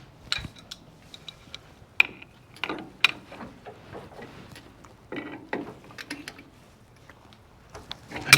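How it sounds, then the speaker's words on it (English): Ratchet clicks and metal tool sounds while tightening a fastener during a pointless-ignition conversion on a Yamaha twin motorcycle: short, irregular bursts of clicking and clinking, close up, with quiet pauses between. "I've got to tighten that first."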